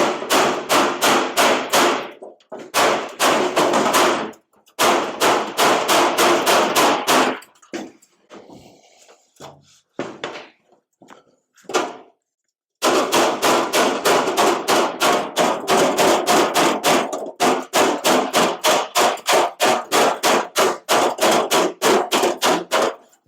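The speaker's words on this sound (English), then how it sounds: "I'll bop it with the rubber hammer and then finesse the last part." A rubber hammer bops dents out of a 1956 International cab-over pickup cab, striking in long fast runs of sharp, loud, close blows, with a brief quieter pause of lighter taps midway.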